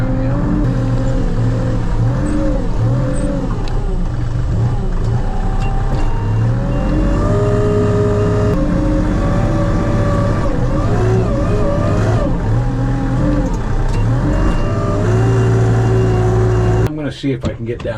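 Heavy equipment working to scoop out a clogged culvert, a loud steady diesel engine drone that rises and falls with the hydraulic load, continuous for the whole stretch before cutting off at the end.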